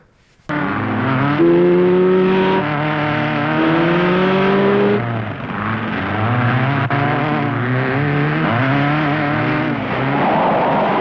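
Racing cars roar from a movie scene, engines revving and shifting pitch continuously, loud and sustained with a passing swell, no speech over them.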